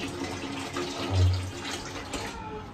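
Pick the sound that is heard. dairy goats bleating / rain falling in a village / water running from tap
water running from tap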